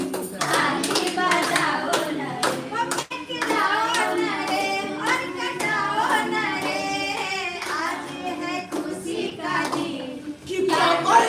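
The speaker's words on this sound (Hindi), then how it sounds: "ताली बजाओ ना रे" Hands clap at a family celebration party marking a milestone with cake cutting, a lively run of sharp claps mixed with singing and voices, steady and close throughout.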